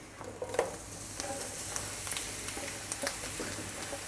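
Chunks of porcini mushrooms (cèpes) sizzle softly in a frying pan with a steady crackle. Small pops and ticks rise now and then, and no one speaks.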